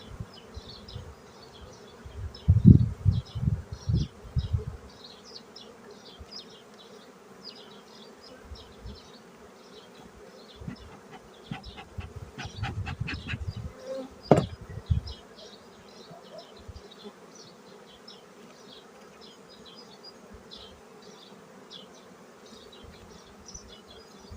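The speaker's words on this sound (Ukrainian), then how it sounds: "Багато молодої бджоли бачу" Honeybees hum in a steady, soft drone inside a hive in spring, with occasional low thumps and rustling handling noises nearby.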